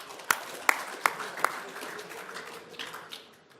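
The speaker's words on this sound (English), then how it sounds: "Give these guys a round of applause" A small audience applauds Dave and Rob at a builders coaching event: several sharp, separate claps open the round, then softer scattered clapping trails off.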